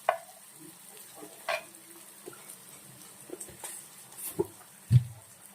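Carrots and capsicum stir-fried in a pan over a high flame, a faint hiss punctuated by sharp scraping and clattering stirs at irregular intervals.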